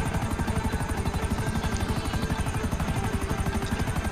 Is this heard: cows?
no